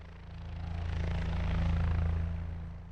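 A helicopter landing on a moving ship, its deep rotor thump and engine drone steady and close, swelling slightly in loudness over a few seconds.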